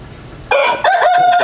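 A rooster crows loudly and close by in a village setting, one clear, sustained cock-a-doodle-doo starting abruptly after a quiet moment, with no talking.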